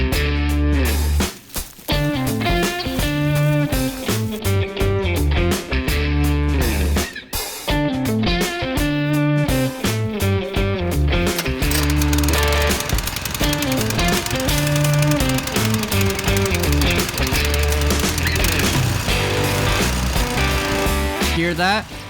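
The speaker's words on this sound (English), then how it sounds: "A full-size tiller, not some tiny little thing." A full-size tiller churns through Kansas sod with a loud, continuous engine roar and choppy, rattling tine impacts, with brief dips in the first half before settling into a steady drone.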